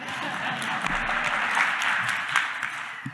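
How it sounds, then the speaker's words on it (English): An audience at a community town hall for a creative arts and wellness center applauds the host, a steady, even wash of clapping from many hands that holds for several seconds, with a faint voice briefly under it. "So he should get a round of applause just for being able to do that."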